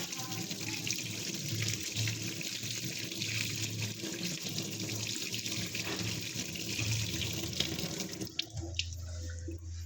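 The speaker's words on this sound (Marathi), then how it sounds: "एक मिनटं मला हे हात धुवून द्या" A tap runs steadily into a sink while hands are washed beneath it, a continuous close splashing that stops abruptly near the end, leaving a low hum.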